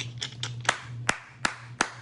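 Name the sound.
hands clapping softly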